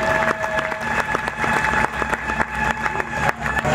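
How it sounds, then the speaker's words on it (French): A crowd applauds at a book fair award ceremony with dense, continuous clapping that fills the room, loud and sustained without a break. "un tonnerre d'applaudissements s'il vous plaît"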